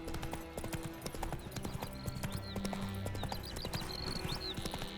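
A horse's hooves clip-clop in a steady walking rhythm inside The Witcher 3: Wild Hunt, with scattered bird chirps and faint game ambience over a low background drone.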